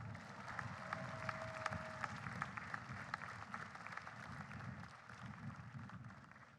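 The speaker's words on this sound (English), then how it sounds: "Can we have an applause, please?" Sustained applause from a graduate commencement audience: a dense, steady wash of many hands clapping that holds for several seconds at moderate, distant loudness before easing slightly at the end.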